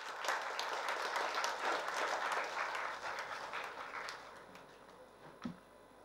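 An audience at an engineering panel discussion claps in sustained, dense applause that gradually thins and fades over several seconds, ending with a few scattered claps.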